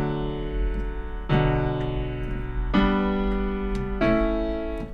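Piano chords in root position played one after another, each struck firmly at roughly one-and-a-half-second intervals and left to ring with a sustained, full tone, with no voices.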